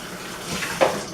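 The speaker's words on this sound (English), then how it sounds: "you can just wash out the funnel with a little bit of water" Water runs briefly as a small funnel is rinsed out in a kitchen sink after making fruit-flavored soft drinks, a soft continuous splashing with a slight surge near the end.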